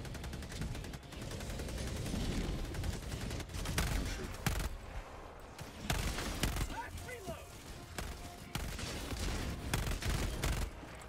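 A gun fires in first person in Helldivers 2, with rapid bursts of gunfire and booming impacts running through the whole stretch, mixed with game effects and voices talking over it.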